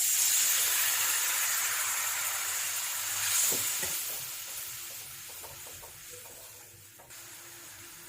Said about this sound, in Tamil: இதுல இப்போ புளி தண்ணியும் சேர்க்கலாம்.